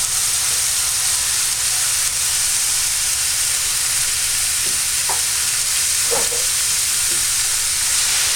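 Aubergine, pepper and chopped tomatoes frying in a pan, a loud constant sizzle and hiss close up, with a few soft clinks of stirring scattered through the second half.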